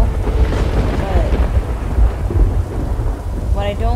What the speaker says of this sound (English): I like the rain too. Not so much thunder.